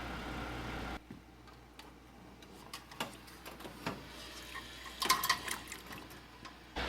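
Water from a water-bath canner, tipped back out of jars of homemade pizza sauce, makes faint splashes and trickles in a quiet kitchen, with a brief louder burst of pouring midway and small clicks and taps around it.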